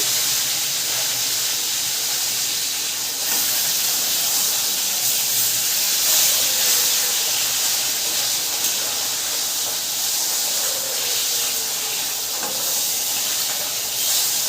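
Katla fish fries in hot oil, giving a continuous, even sizzling hiss held at a steady level from start to finish, close by and with no voices.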